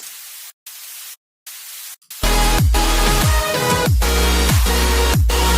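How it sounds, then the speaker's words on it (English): Stereo white noise layer from Ableton's Operator synth, first heard as gated hissy bursts broken by silences, then as loud sustained static under a pulsing melodic electronic drop with repeating low hits. "Ableton, operator, make it stereo, white noise, hit record, bounce it out"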